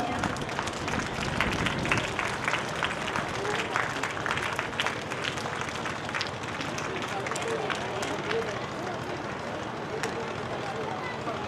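An audience at a school fest claps for children for the whole stretch, a steady patter of many hands mixed with talking voices.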